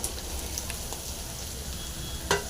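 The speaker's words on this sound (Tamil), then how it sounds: "நல்லா ஃப்ரை பண்ணிக்கலாம்" Ridge gourd and curry leaves fry in a pan with a steady, close sizzle that continues without a break. A brief clink comes near the end.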